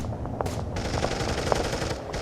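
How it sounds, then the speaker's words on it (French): Rapid bursts of German machine gun fire in a WWII battle scene rattle in quick succession, with sharp individual shots standing out amid a continuous clatter. "Les mitrailleuses allemandes continuent de faire d'innombrables victimes dans les rangs mulsheimois."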